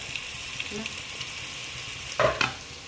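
Ginger garlic paste frying with mutton in a pan, a faint steady sizzle punctuated by a few soft stirring scrapes and a louder clatter of the spoon near the end.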